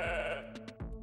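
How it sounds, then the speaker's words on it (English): A sheep bleats close by, one long wavering call followed by a few short bursts, with no talking. "scientists in Scotland announced they had successfully cloned an adult sheep named Dolly"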